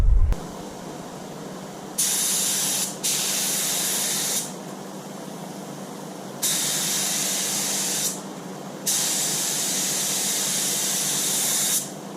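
A spray gun applies clear coat to the door jambs of a 1993 Ford Bronco in a shop, with loud bursts of hissing spray in several long passes separated by short pauses over a fan's steady hum.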